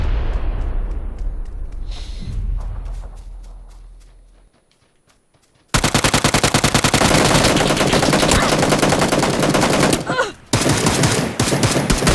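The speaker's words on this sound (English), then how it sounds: "So the ump seems to fire very slowly" UMP submachine gun firing in PUBG with a steady, fairly slow rhythm of loud close shots. A brief pause breaks the burst before the firing resumes.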